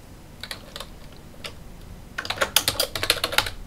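Keys tap on a computer keyboard, a few sparse clicks at first, then a fast close burst of typing.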